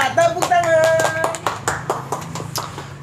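Clapping welcomes a guest onto a podcast, a short burst of hand claps over speech and a sustained tone at the start.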